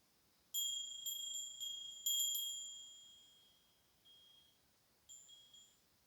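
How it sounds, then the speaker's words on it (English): A small meditation bell rings several times in quick succession, clear and high-pitched, each strike fading out, then one last softer ring in near silence. "hear the bell."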